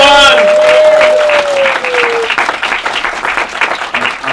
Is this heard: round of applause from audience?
yes